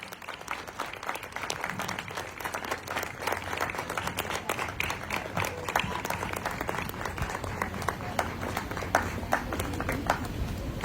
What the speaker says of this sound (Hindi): तो तालियां रुकनी नहीं चाहिए जब तक सर यहां से मेरे से माइक नहीं लेते।